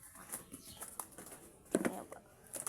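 Pigeons outdoors, with soft coos and a few brief flutters and pattering sounds, faint and intermittent, with no talking.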